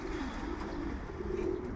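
Soft, low pigeon cooing murmurs steadily through the clip, a continuous warbling burble with no speech over it.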